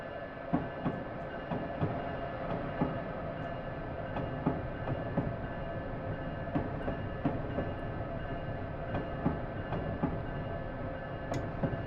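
An ACS-64 electric locomotive runs in the Train Simulator 2016 game, giving a steady rumbling drone with regular light rail clicks over the whole stretch.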